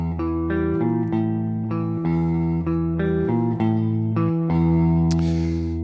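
A clean, dreamy electric guitar plays a recurring intro riff, with sustained ringing notes and a bass note underneath, fairly loud and close.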